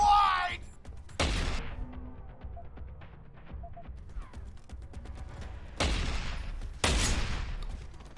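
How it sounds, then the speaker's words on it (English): Three heavy shotgun blasts in Deus Ex: Human Revolution, one early and two close together near the end, each sharp and booming over a quieter backdrop of game ambience. "Shotguns, is it?"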